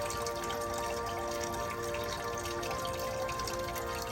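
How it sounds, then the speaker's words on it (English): Water flowing steadily from a fountain in a decorated garden area lit for Christmas, a constant soft wash of splashing with no pauses and no voices. "Doesn't the sound of water give you a relaxing feeling, especially at this time?"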